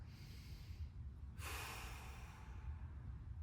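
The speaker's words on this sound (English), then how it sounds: "2 more breaths" A slow, deep breath drawn in and blown out during a side-body stretch in a mobility session, soft and close, one long airy exhale standing out over a quiet low background.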